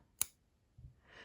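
Scissors snip through crochet yarn with a single sharp, close click, followed by a soft rustle of handling, quiet and without talk.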